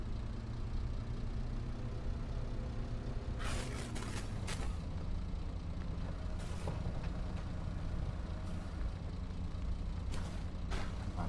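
Small wheel loader loading a big trailer in Farming Simulator 22, a steady low engine drone with a few sharp hissing bursts from the machine partway through.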